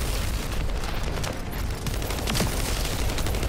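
Rapid gunfire from the shooter game The First Descendant, dense and continuous with booming impacts layered throughout, loud and close with no pauses.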